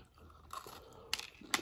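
Crisp crunching and chewing of cookies during a casual dinner mukbang, a few short close bursts spaced across a quiet moment with no talk.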